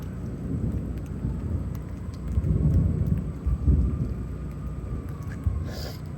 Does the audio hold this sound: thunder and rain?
yes